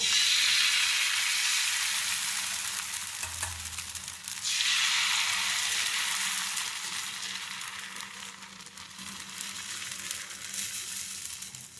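Dhirde batter cooks on a hot tawa with a bright, continuous sizzle that swells when more batter hits the pan, then settles into a softer steady hiss, close and without speech.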